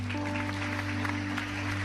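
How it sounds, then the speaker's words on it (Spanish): Church congregation clapping for the Lord during a sermon, a steady, moderate spread of claps over a low sustained hum, without clear voices. "Dale un aplauso fuerte al Señor."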